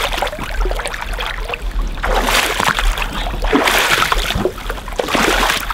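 Boots wading through a rain-swollen creek, with repeated loud splashing and sloshing steps in bursts, close and dominant with no talk.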